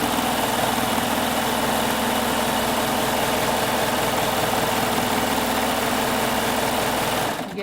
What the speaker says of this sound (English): I go to my machine and just start stitching it